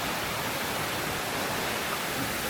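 A waterfall pours in a dense, unbroken roar of rushing water, loud and close, filling the scene with steady broadband hiss and no other sounds.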